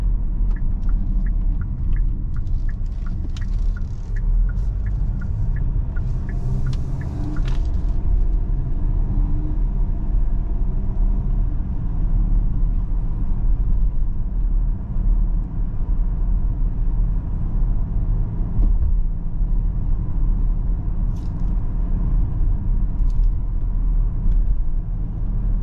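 A 2022 Kia Sorento 2.2 diesel heard from inside while driving, a steady low engine drone and road rumble that stays constant throughout, with a few faint clicks early on.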